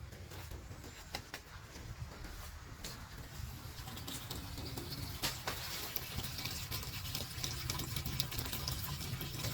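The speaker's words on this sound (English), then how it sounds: "You see the water coming in pretty fast right here." Water gushes quickly from a hose into a downspout drainage pipe, a steady rushing, splashing flow with faint bird calls in the background.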